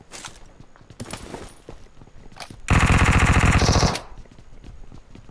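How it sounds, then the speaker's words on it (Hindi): Gunfire in a PUBG Mobile gunfight: a sustained burst of rapid automatic shots fills the middle of the stretch, loud and dense, with scattered single reports and movement noise before and after. "अरे भाई ये गन फाइट हो गया साला"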